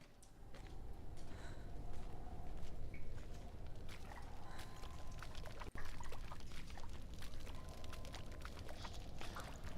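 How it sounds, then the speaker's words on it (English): Water in the video game Hellblade: Senua's Sacrifice sloshes and pours steadily, a close, continuous liquid wash with small splashes and splattering textures over a low rumble. "Maybe that's just water."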